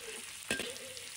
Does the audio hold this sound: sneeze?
no